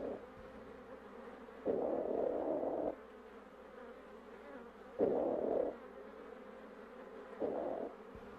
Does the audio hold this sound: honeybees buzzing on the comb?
yes